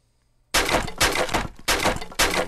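Wooden crates smashing in the ragdoll physics game Happy Wheels, four loud sharp cracking bursts in a steady rhythm after a moment of near silence, with no talking.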